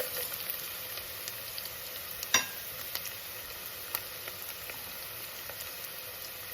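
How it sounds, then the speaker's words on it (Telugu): Onions and whole spices fry in hot oil for vegetable rice, making a soft, even sizzle with scattered crackles and one sharp clatter near the middle, with no talking. "ఆయిల్ వేడైందండి. ఇప్పుడు మనము ఆనియన్స్ వేసుకుందాం. అలాగే మసాలా దినుసులు కూడా వేసుకుందాం."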